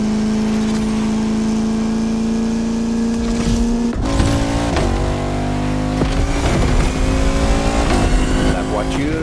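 A Bugatti La Voiture Noire in the racing game The Crew Motorfest gives off a steady, loud engine drone. Its pitch rises and shifts as the car revs and accelerates, with a few sharper swells along the way.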